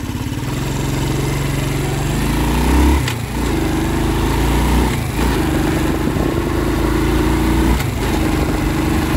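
A Honda Biz motorcycle engine, with a newly replaced clutch, runs loudly and steadily nearby, revving up in first gear, with brief dips around a few gear or throttle changes, slightly muffled.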